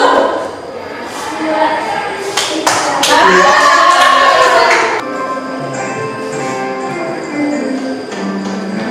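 Hands clap in short bursts during a classroom counting game in which players clap on the numbers 3, 6 and 9, the claps mixed in with several voices calling out and talking.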